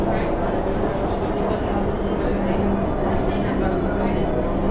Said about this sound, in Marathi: आपली आता पिंपरीमधून मेट्रो निघली आहे